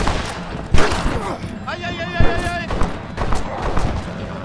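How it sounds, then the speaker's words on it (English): Shotgun blasts go off in the game Red Dead Redemption: loud, close bangs at irregular moments among other gunfire and game noise. "Okay, shotgun."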